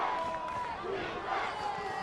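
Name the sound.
football crowd chanting defense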